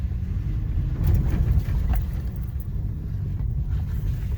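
A four-wheel-drive vehicle climbs a rough trail near Dotsero, Colorado, its engine a steady low rumble mixed with wind buffeting, bumps and jolts marking the ascent throughout.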